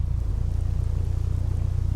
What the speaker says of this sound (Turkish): Direkt yağmur yağdı ama.